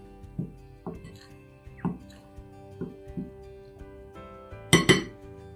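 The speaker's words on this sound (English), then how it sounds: "Add 1/4 teaspoon baking soda and give it a good mix." A spoon mixes baking soda into ingredients in a bowl for eggless pistachio oat cookies, making a steady series of sharp clinks against the bowl, roughly one per second, with a louder double clink near the end.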